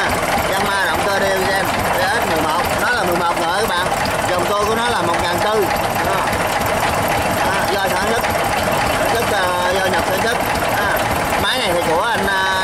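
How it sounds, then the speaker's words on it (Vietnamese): A Yanmar BS11 single-cylinder diesel engine, an old stationary machine, running at about 1400 rpm with a steady rapid chugging knock, loud and close, continuous throughout with no pauses. "Yanma động cơ diesel BS 11, nó là 11 nữa các bạn. Dòng tua của nó là 1400."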